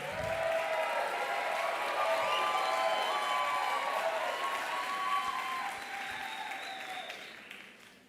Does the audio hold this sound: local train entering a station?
no